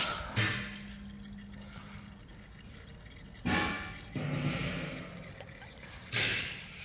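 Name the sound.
engine oil draining out of a Yamaha MT-09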